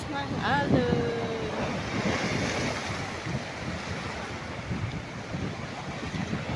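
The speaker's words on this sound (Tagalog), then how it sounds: "Lakas ng alon." Strong ocean surf and wind roar continuously, a heavy rushing wash of waves close by on a shore with gusty microphone noise and a faint voice early on.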